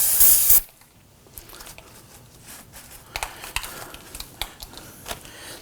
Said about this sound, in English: I'm going to spray this down with some solvent